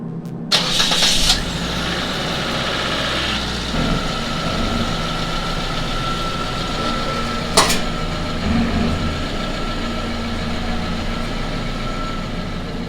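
A car engine starts and idles, then runs steadily as the car rolls down off metal Petersen Tru Cut ramps, with a low rumble throughout and a couple of brief clunks.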